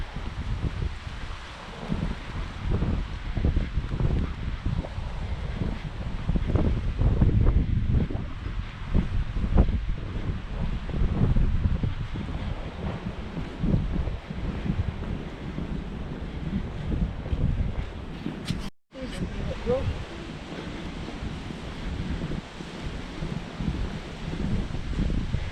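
Wind blows across a beach promenade in Magaluf, a continuous loud buffeting roar on the microphone with shifting gusts, briefly cutting out once before resuming.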